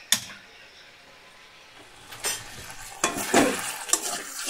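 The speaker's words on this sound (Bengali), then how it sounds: "দেখো ভালো করে কষিয়ে নিচ্ছি।" Meat with spices sautéed in hot oil for a thin potato-and-meat curry, a quiet sizzle at first, then several close spatula scrapes and stirs getting louder toward the end.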